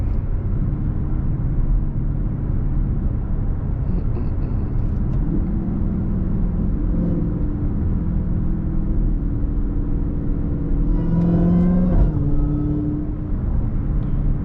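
Dodge Hellcat Charger engine cruising in sport mode, a steady low rumble throughout with a brief rise in pitch near the end, heard from inside the car with no talk.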